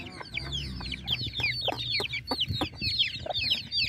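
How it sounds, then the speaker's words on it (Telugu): Hens lead their chicks away toward grass and plants, giving repeated soft clucks while the chicks cheep in a steady, busy chorus of high peeps close by, with no talking. "ఈ 2 పెట్టలు కూడా పిల్లల్ని అటు చేసుకుని వెళ్ళిపోతున్నాయి ఎడంగా"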